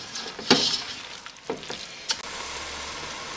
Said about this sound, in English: Stir that up, and then you can see that that loosens up any stuck bits at the bottom.